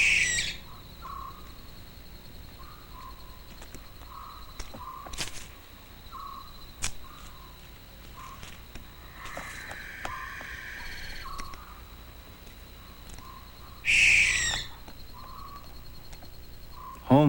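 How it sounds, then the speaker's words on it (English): A barn owl calls at night in the Okavango, with harsh, hissing screeches in separate bursts against a quiet background of sparse chirps and clicks. "And the barn owl watches mainly for gerbils."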